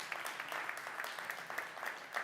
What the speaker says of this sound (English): Let's give them a round of applause and thank them for being here.